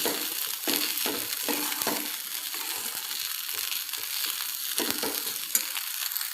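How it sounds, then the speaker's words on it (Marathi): Onion poha stir-fried in a pan, a dense close sizzle with repeated scraping and tossing strokes in an uneven rhythm, continuous and fairly loud, with no voices. "छान असं परतून घ्यायचं आहे."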